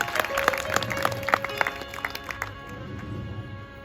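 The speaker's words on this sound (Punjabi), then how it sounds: "ਇੱਕ ਵਾਰੀ ਕਿਸਾਨਾਂ ਦੇ ਨਾਂ ਤੇ ਮਾਰੋ ਬਾਬਾ ਜੀ ਦੇ ਦਰਬਾਰ 'ਚ ਬੈਠੇ ਤਾੜੀਆਂ" Scattered clapping from an audience at a religious birthday fair, a short burst of hand claps under a sustained musical drone, fading after a few seconds.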